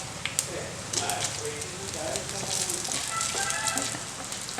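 Red chillies go into hot oil in a pan for Andhra-style tomato dal, giving a dense, crackling sizzle with scattered pops, close and continuous, with faint talk underneath.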